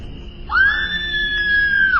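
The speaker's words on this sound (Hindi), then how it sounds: "उस शांत कमरे में आयुर्वती की चीख गूंज गई" A woman's scream rings out in a dramatized Hindi reading, one sustained high shriek of about a second and a half, close and clear over a quiet room.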